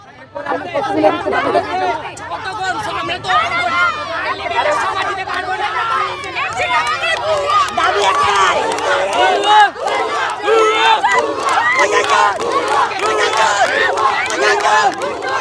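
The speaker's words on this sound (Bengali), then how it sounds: "পুলিশের সামনে ভুয়া ভুয়া স্লোগান তুলেছেন শিক্ষার্থী।" A crowd of student protesters chants a repeated two-syllable slogan in front of police, many voices shouting together in a steady rhythmic call over continuous loud crowd noise and chatter.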